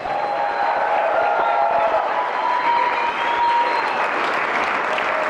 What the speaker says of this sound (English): Please give a round of applause for Chris Washburn, CEO and founder of Fezzari Bicycles